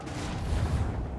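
Torpedo hits exploding against a ship in the Rogue Trader video game, a continuous low rumbling boom with dense blasts that swell and hold steady for just over a second, with no talk.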